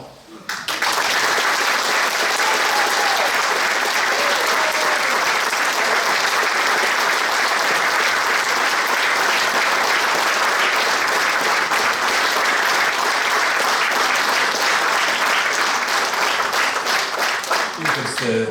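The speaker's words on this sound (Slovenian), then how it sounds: "In zdaj aplavz za celo posadko." An audience gives a long, loud round of applause for a whole cast at a local heritage event about old crafts, dense sustained clapping that swells in and holds for nearly twenty seconds before fading.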